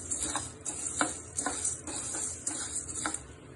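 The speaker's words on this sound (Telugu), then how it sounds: "ఒక కప్పు మినపప్పు ఫ్రై చేసుకోవాలి" Black gram lentils frying in a pan, a steady sizzle with irregular scraping and stirring clicks from a utensil, close and fairly loud, no talking.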